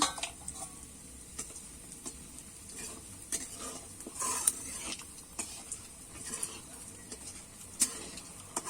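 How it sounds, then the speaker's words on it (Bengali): Lentil dumplings (bori) frying in oil left over from frying fish, a soft, quiet sizzle with scattered small crackles and light clinks of a utensil against the pan. "এবার ওই তেলেতেই বড়িগুলো ভেজে নেব।"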